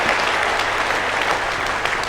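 Audience applause at a Tamil speech event: steady, dense clapping from a full room, loud and continuous throughout with no voices over it.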